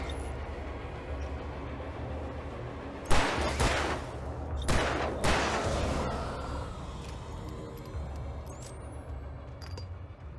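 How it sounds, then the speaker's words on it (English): A flare gun going off in Alan Wake Remastered, two loud close bursts of fiery hissing blasts in quick succession over a low rumbling game ambience, then a fading hiss. "I used the gun flare by mistake"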